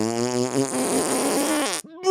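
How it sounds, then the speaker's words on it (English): A long buzzing fart, loud and close, sputtering for more than a second and a half before cutting off into a short pause and a fresh burst. "Fart."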